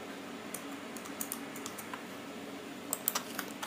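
A computer keyboard being typed on in scattered, light clicks with uneven gaps, a few sharper taps near the end, against a quiet background.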